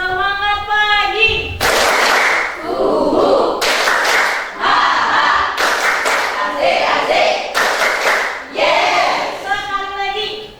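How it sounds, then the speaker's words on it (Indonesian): A group claps a rhythmic 'semangat pagi' cheer in unison, several bursts of sharp, loud clapping separated by brief shouted chants from the crowd, repeated across the span. "Kita tes tepuknya dulu ya"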